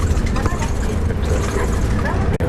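A city bus in Kumamoto, Japan pulls away from an intersection, its engine rumbling loud and low from inside the cabin, with a steady drone and a brief dip near the end.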